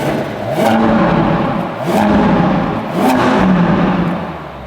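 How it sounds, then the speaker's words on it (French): An engine with an IPE F1 valved exhaust revs hard three times in succession, each rise swelling into a loud, raspy roar as the exhaust valves open above 4000 rpm, then falling back between bursts. "Vas-y, accélère et ouvre les valves."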